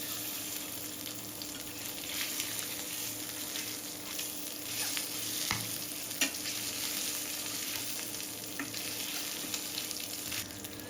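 Boiled eggs stir-fried in hot oil for egg bhuna, a steady close sizzle with soft scraping and stirring clatter running through the whole stretch, one sharper knock near the middle, no voices.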